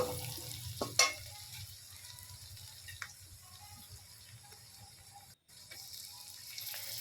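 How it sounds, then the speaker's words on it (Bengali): Chopped green chillies frying in a pan, with a soft, faint hiss and a few light knocks of a utensil, including one sharper clack near the start, heard up close with no talking. "দিয়ে খুব সুন্দর করে বাদামি কালার করে একটু ভেজে নেব"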